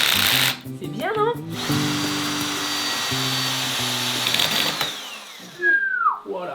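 A power drill driving screws while a twin bed frame is assembled, a steady whirring hum running through most of the stretch, with brief talk at the start and a rising whine near the end.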